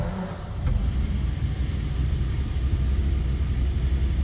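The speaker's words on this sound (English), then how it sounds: "Push button start." A 1939 Ford Standard two-door sedan's engine cranks briefly, catches and settles into a steady low idle rumble, loud and continuous with no talking.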